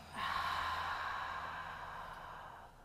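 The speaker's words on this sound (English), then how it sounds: "Exhale here." A single long, steady exhale during a guided breathing exercise, close and soft, trailing off slowly over a few seconds with no talking.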